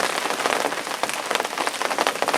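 Steady rain falls on and around a lake, a dense, even patter of drops hissing close by, with no voices and no pauses.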